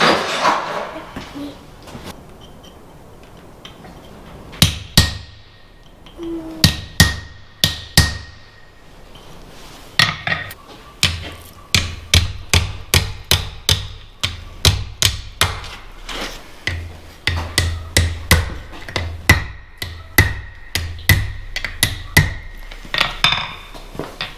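Sharp metallic blacksmith hammer strikes ring out while forging an iron hanger, sparse at first then in quick steady runs of blows, close and loud with quiet gaps between.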